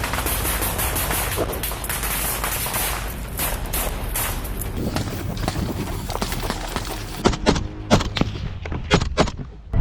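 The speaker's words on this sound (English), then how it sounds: "The Russian infantry dismount from their vehicles and immediately enter the fight, firing back at the Ukrainian forces." Gunfire in an infantry firefight as Russian troops dismount and return fire on Ukrainian forces: a dense, continuous roar of overlapping shots, with sharper, more distinct cracks standing out in the last couple of seconds.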